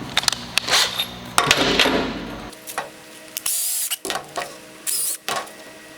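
A drill bores a hole in a camper's stairs, with short bursts of whirring and grinding broken by pauses, clicks and clatter, close and fairly loud.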